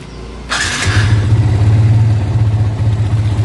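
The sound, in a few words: Yamaha Vixion motorcycle engine started and warming up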